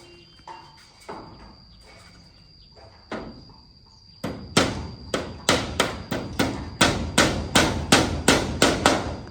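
Nails being hammered by two workers building a shop: irregular blows at first, then a loud, fast, steady series of sharp strikes close by, with insect chirping faintly in the background.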